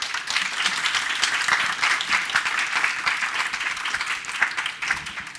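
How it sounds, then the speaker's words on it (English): Festival audience applauding steadily throughout, a dense, even wash of many hands clapping at close range with no speech over it. "Can we give them all a round of applause?"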